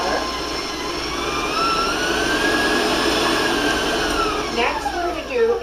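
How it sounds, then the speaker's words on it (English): Electric hand mixer creaming butter, sugar and peanut butter in a bowl, a loud steady motor whine with slowly shifting pitch running throughout and a brief change near the end. "now we'll just cream the butters, the sugar, and the peanut butter together"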